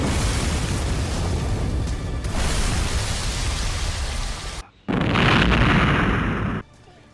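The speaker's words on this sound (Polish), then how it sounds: "Motorówką, która wybucha." A motorboat explodes: a loud, sustained explosive roar fills several seconds, cuts out briefly, then returns as a second burst of rushing blast noise before dropping away.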